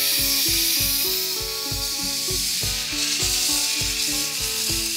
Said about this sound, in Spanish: ahora lo que tenemos que hacer es sacar completamente la presión de la olla